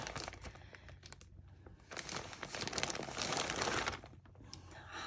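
A thick stuffed envelope is opened at close range with crinkling and crumpling paper, and a longer tearing rip in the middle. The sound is quiet and has no talk.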